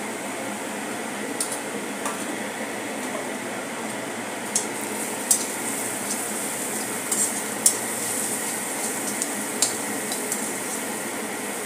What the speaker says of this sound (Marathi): कांदा आपल्याला चांगला ब्राऊन करायचा आहे, गुलाबी करायचा आहे।